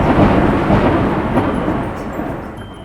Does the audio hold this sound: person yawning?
no